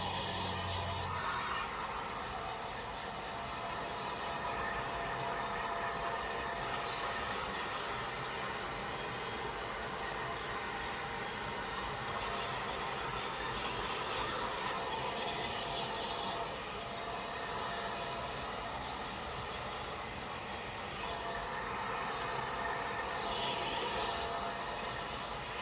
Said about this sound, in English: I'm just going to take my blow dryer, no brush, just my fingers